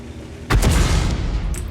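A single HE shell fired from a tank in World of Tanks: one sudden, loud, booming cannon blast followed by a rumbling decay that fills the rest of the moment.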